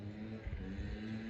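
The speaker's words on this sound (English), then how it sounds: "chainsaw or edge cutter or something over there." Distant petrol chainsaw or edge cutter droning steadily from some way off, a faint continuous engine hum with slight wavering in pitch.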